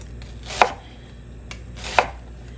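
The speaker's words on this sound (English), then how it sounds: "And I know I'm unconventional in my onion slicing practices." Two crisp knife chops through a raw onion on a cutting board in a home kitchen, spaced about a second and a half apart, close and clear against a quiet background.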